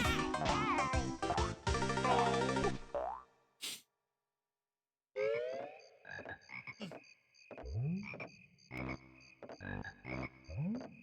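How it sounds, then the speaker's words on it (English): Cartoonish frog croaks and boing-like sounds repeat in the Banjo-Kazooie video game, rhythmic and loud over game music, with a short silent gap partway through. "Over here, there's some frogs."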